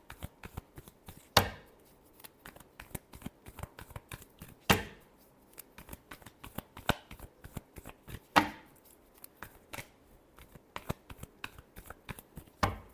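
A deck of tarot cards being shuffled, with soft riffling clicks and a few sharper snaps at irregular intervals, close and fairly quiet, no voices.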